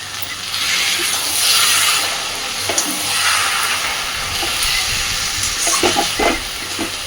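Cabbage curry with ghee being stirred and mixed in a pan, a steady loud sizzle with scraping strokes of the spoon, continuous and close.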